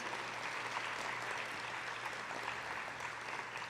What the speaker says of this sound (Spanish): a quien deseo por favor un aplauso para don Carlos Rubén Ortiz.